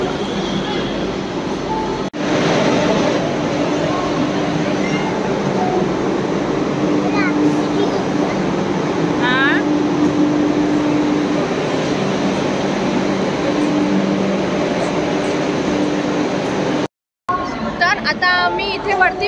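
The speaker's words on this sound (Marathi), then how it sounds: "हे आहे पुणे रेल्वे स्टेशन" A train at Pune railway station gives a low, steady rumble across the platform, mixed with crowd chatter and a few brief high squeals or tones, with a short dropout near the end.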